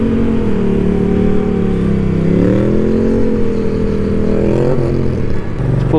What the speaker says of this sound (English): I'm about to do a wheelie right now just to see.